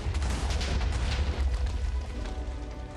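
A trap explodes in the video game Minecraft, a short, loud burst of booming, rumbling noise that stays dense and heavy for a few seconds before easing slightly, with no speech.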